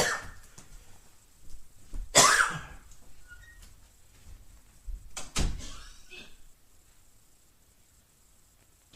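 A man with acid reflux coughs in a quiet room, giving two short, harsh bursts a few seconds apart, each loud and close, with faint rustling between them.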